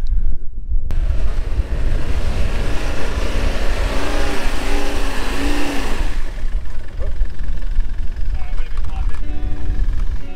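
Toyota Prado off-road vehicle engine working hard while driving uphill, a loud steady drone mixed with heavy wind buffeting on the microphone, with voices over it.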